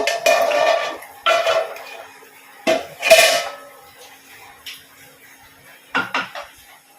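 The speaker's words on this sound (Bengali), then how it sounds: "এবার আমি আবার ঢাকনা খুলে দেখব।" While murg korma cooks, a metal pot lid is lifted and set down, giving several sharp clanks and scrapes in separate bursts with quiet gaps between them, close and fairly loud.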